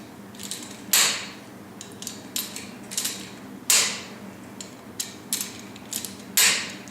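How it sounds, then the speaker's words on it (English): A torque wrench tightens motor base plate bolts in a cross pattern, giving a few sharp clicking ratchet snaps with softer creaks between them, close up and without speech. "I'm going to go ahead and torque, and I'm using a cross pattern."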